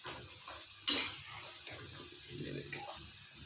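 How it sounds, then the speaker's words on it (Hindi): Potato finger chips sizzle quietly in hot oil while a utensil stirs them, with one sharp clink against the pan and soft scraping. The frying stays faint under a low voice. "एक दो दफ़ा इसको आहिस्ता आहिस्ता से हिला देंगे ताकि जो आलू एक दूसरे के साथ चिमटे ना"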